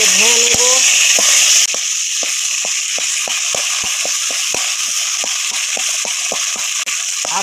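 Potatoes and tomatoes in hot mustard oil with black cumin sizzle loudly and steadily in a pan, while a spatula mashes them with a regular series of sharp taps and scrapes; no voices.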